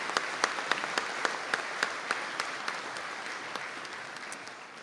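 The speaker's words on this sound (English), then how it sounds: "And could you give them all a round of applause," Audience applause at a Donegal conferring ceremony, fairly quiet and distant, a steady patter of many hands with a few sharper individual claps standing out, slowly tapering off.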